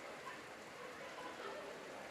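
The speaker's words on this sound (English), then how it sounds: "As that rain is just feels like it gets heavier and heavier the more the minutes go on." Steady rain falls at an outdoor non-league football match between Stocksbridge Park Steels and Brighouse Town, a faint, even, continuous hiss of drops with no voices.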